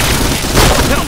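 Grenade explosions in a video game: a dull boom and a burst of crackling gunfire packed into a second of loud, chaotic battle noise, with shouting voices mixed in.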